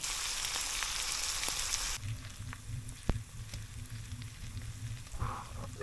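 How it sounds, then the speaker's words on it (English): Frying pan sizzling over a camp stove inside a tent in deep snow, set on top to melt cheese: a steady close hiss with faint crackles and a soft knock, no talk. "I got the frying pan on here just to act like an oven to help melt the cheese."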